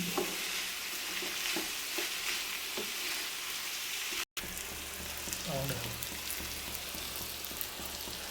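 Sliced onions and shallots frying in a pan for a pomfret dish, a steady close sizzle with repeated stirring scrapes and a momentary break partway through.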